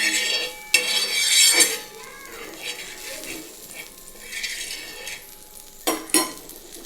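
Pav being toasted in butter on an iron tava, with metal clinks and scrapes from a spatula in short bursts over a faint sizzle, close by with no voices.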